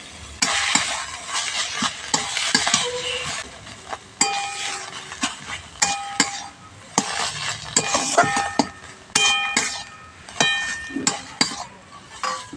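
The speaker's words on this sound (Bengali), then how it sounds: "কপিটা আমি আর একটু শুকনো শুকনো করব" Spoon stirring cabbage and tomato bharta as it fries in a pan, with repeated scraping strokes, metallic clinks against the pan and a soft sizzle underneath, close and fairly loud in an uneven rhythm.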